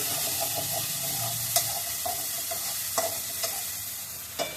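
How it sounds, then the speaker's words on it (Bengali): Spice masala sautéing in a pan for a homestyle fish dish, a steady close sizzle broken by occasional sharp spoon scrapes and taps against the metal, with no talking. "মশলাটা কষিয়ে নিচ্ছি"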